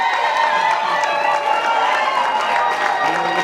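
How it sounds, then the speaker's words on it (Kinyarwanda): Guests at a wedding break into lively applause mixed with high, wavering ululation, a loud and dense crowd sound with voices woven through it. "dukoma amashyi n'impundu nyinshi"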